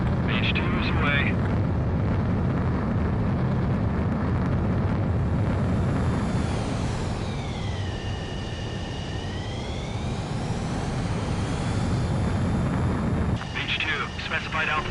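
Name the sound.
jet fighter launching and climbing in Ace Combat video game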